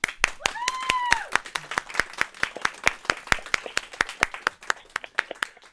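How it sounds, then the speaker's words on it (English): A small audience claps for students after a space station radio contact event, sparse distinct handclaps in a steady rhythm, with a brief voice calling out near the start. "I think they all deserve a round of applause."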